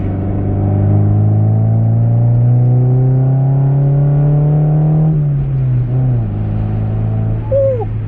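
Honda Del Sol engine revving loud and close during a pull, a rising harmonic drone that climbs steadily then drops as the revs fall, with no talk.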